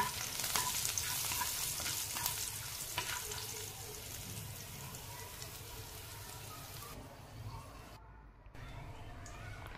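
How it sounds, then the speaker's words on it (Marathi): Hot oil tempering with coriander leaves is poured onto tangy tomato chutney and sizzles loudly and crackles at first. The hiss then fades to a softer fizz, with brief gaps near the end. "आता ही फोडणी आपण चटणीवर घालणार आहोत"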